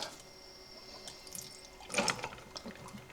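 A short burst of water splashing and trickling as it is poured, close by, following a quiet stretch with a faint steady hum.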